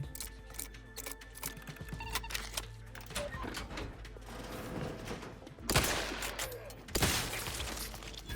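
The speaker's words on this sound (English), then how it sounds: "They're firing at me." Enemy gunfire crackles in The Outer Worlds 2, a fairly quiet, continuous patter of shots with a couple of louder bursts near the end, and no talking.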